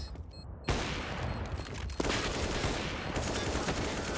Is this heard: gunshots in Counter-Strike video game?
yes